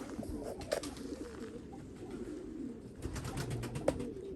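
Low, soft pigeon cooing repeats through the clip against a steady outdoor background, with a couple of brief sharper sounds, no voices.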